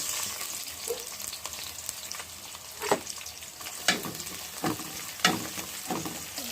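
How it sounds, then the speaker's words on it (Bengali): Chopped garlic, onion and green chili frying in a pan for a mixed vegetable dish, a steady close sizzle broken by several sharp crackles and stirring scrapes, with no voices. "প্রথমে রসুন কুচি দিয়ে দিলাম, পেঁয়াজ, কাঁচামরিচ"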